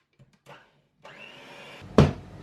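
Electric hand mixer beating a sugar mixture for corn cake batter, a steady motor whir starting after a few faint knocks and running continuously, with a loud clunk near the end.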